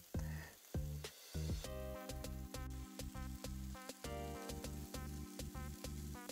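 Tandoori chicken pieces sizzle while grilling in a pan over medium-high heat, a close, steady frying crackle with occasional stirring or shifting clatter.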